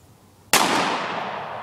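A single loud gunshot fired at a golf ball target outdoors, a sharp crack followed by a long fading echo, close and alone.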